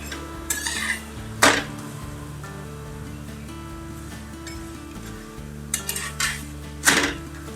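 A pumpkin thepla flatbread, roasted crisp on both sides, is lifted from a pan, giving a few sharp metallic clinks and scrapes of utensil on pan over a low steady background, with no talking.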